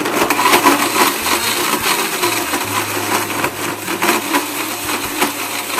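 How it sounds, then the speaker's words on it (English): A blender runs on high, whirring loud and constant as it churns a chocolate mint smoothie made with vanilla ice cream, with a gritty, rattling texture and no speech. "Blend this on high for 60 seconds"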